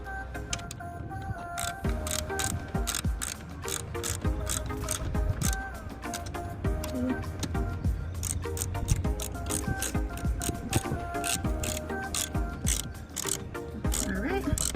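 A ratchet wrench tightening a bolt during a VVT replacement on a 2011 Chevy Impala, rapid clicking pawl ticks running steadily throughout, fairly close and loud with no talking.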